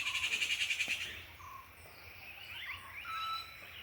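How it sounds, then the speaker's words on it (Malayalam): Several birds call among trees and flowering plants: a rapid, pulsing run of high chirps at first, then scattered whistles and short calls at a moderate distance over a quiet background. "നല്ല രസമാണ് കിളികളുടെ കരച്ചിൽ കേൾക്കാൻ കേട്ടോ."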